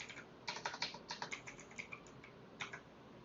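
Code being typed on a computer keyboard: quiet, close clicking keystrokes in quick irregular runs with brief gaps, heard alone.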